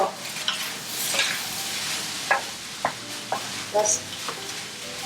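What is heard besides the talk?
shrimp frying in rice in a pan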